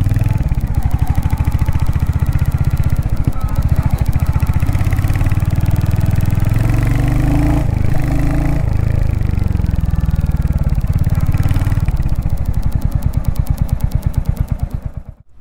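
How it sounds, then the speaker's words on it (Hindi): A Royal Enfield Hunter 350 motorcycle engine runs loud and close with a steady mid-pitched thrum and mechanical clatter throughout, fading at the very end. "सर बाइक चला के मैंने देख ली हंटर"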